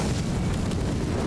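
A short, loud explosion in Elden Ring, a dense booming roar filling the whole moment without pause or speech.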